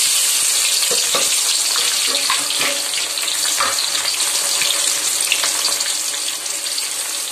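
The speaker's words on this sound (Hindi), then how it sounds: "और ऑनियन ऑयल गर्म होने के बाद में ऑनियन फ्राई करेंगे।" Onions frying in hot oil for a vegetable biryani, a steady close hissing sizzle with faint crackles throughout, heard alone without talk.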